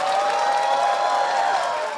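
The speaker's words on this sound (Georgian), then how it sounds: "თქვენი ხურვალე ტაში ძალიან დამეხმარებოდა რომ გამახნევოს" Live podcast audience in Georgia applauding loudly and steadily, a dense wash of clapping filling the whole stretch without pause.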